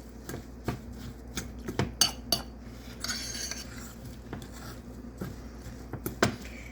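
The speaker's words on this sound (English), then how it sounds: "Now you need to mix it up real good." Oats, banana and chocolate chip cookie dough being mixed in a bowl, with a spoon clinking and scraping against the sides in irregular knocks and taps, close and moderately loud, with no talking.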